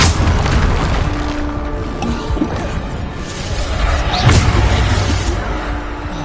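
Bombarda explosion spells going off in Hogwarts Legacy, a loud continuous roar of booming blasts and crashing debris with a heavy low rumble throughout, sustained and dense with no clear pauses.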